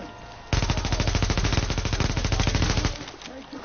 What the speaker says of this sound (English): Oh, he said shots fired. Shots fired.